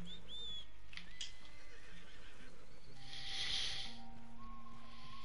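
A horse whinnies loudly in a Red Dead Redemption 2 game scene, over a low steady ambient bed with tonal game sounds.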